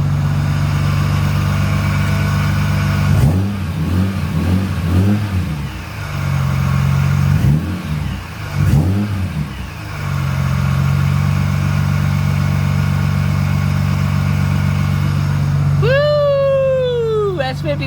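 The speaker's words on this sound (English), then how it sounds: "You get that Supercharger whine." A supercharged S54 engine in a BMW E46 M3 drift car drones loudly at steady revs, dipping in a few short blips before a rising whine sweeps up near the end.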